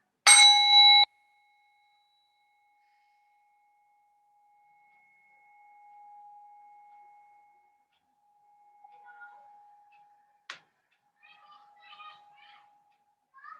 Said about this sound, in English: I will ring the bell into final rest for a couple of minutes